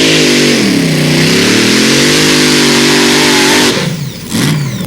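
A pulling tractor powered by a Chevy 509 engine roars at full throttle during a tractor pulling championship, loud and steady with a wavering pitch before it cuts off near the end.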